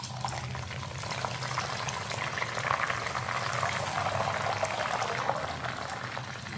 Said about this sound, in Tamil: இப்போ எண்ணெயோட வெங்காயச்சாரும் நெல்லிக்காய் சோறும் நல்லா கொதிச்சுக்கிட்டு வருது.